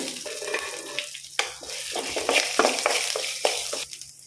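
Fenugreek seeds and black peppercorns fry in a small pan, with quick sizzling bursts and sharp pops and scrapes coming close and irregular over a quiet background.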